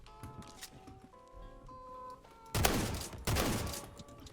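Two loud, close shotgun blasts in the Roblox shooter Phantom Forces, each a broad burst with a short decaying tail, following quieter game tones and clicks.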